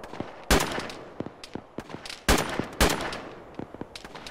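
Sharp gunshots from the military shooter Arma in a ShackTac squad match, several loud isolated cracks with a few fainter distant pops in between, spaced irregularly across a few seconds with no talk.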